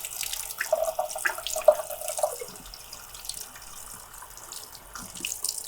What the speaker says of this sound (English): just rinse the acid off